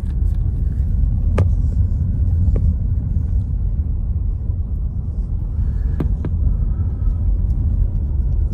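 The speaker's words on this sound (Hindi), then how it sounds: "दरख्तों को के बीच में से ये गाड़ी हमारी जा रही है" A car drives along a road lined with trees beside water, giving a steady low engine and tyre rumble throughout with a few faint clicks, heard from inside or close by.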